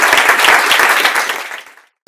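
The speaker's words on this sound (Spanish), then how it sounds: "un aplauso final para esta mesa" Audience applause for a panel at a public-sector collective bargaining forum, loud and dense close by, then quickly thinning and dying away to silence near the end.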